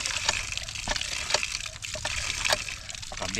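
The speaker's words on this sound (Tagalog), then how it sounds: "Ganito po ang tamang pagtimba ng poso." Water gushes and splashes in rhythmic bursts as a hand pump is worked to fill a bucket, with splashy pours repeating every second or so.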